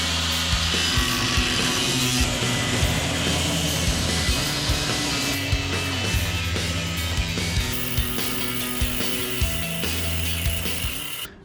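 A power cutting tool grinds and rattles through the damaged body panel of a Nissan 240sx, a continuous loud, close mechanical buzz with a rapid ratcheting chatter lasting throughout.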